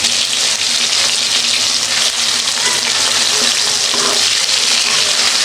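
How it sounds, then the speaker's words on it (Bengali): Fish frying in a pan in a home Bengali kitchen, a loud and steady sizzle that holds without a break, close up, with no talk. "এদিকে মাছ ভাজাগুলো উল্টিয়ে দেবো"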